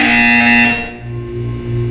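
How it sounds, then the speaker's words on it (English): Loud, harsh electronic buzzer in the game Portal 2 sounds for about a second, then fades into a steady low mechanical hum. "You will hear a buzzer."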